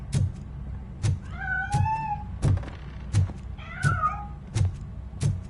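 A cat meows twice in the video game Robocop: Rogue City, each rising and falling call sounding over a steady, evenly paced series of heavy thudding footsteps.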